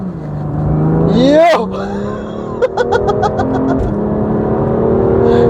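BMW M2 Coupe G87 launching hard with launch control and its tires spinning: loud engine roar rising through revs, a quick burst of gearshift crackles, then sustained acceleration, with a brief spoken word near the start.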